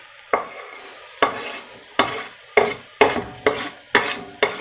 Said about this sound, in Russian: Сразу лук отправляем жарить.